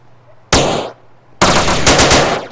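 Machine gun fire in Grand Theft Auto: San Andreas comes as two loud, close bursts: a short one, then a longer sustained volley after a brief pause.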